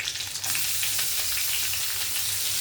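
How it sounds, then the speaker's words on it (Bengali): Shredded winter cabbage hits hot oil tempered with two green chillies for a Bengali cabbage curry, setting off a loud, steady, close sizzle with no voice over it. "দুটো কাঁচা লঙ্কা ফোড়ন দিয়ে এই কেটে রাখা বাঁধাকপিটা আমি দিয়ে দেবো।"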